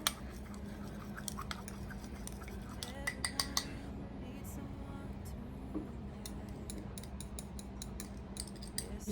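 Butter being stirred into a pot of vegetables, corn among them, with a fork for a Thanksgiving side dish: light scraping and clinking of metal against the pot, a cluster of sharp taps early on, then scattered clicks over a steady low hum.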